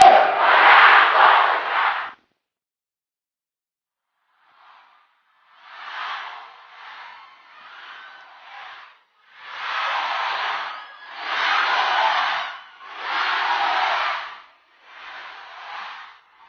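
A large outdoor rally crowd in Cavite chants in repeated loud bursts, a roaring mass of voices rising and falling with short pauses between phrases.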